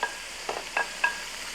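Roasted beets are added to a pot of soup and stirred, giving three short wet scraping strokes over a low, steady kitchen background.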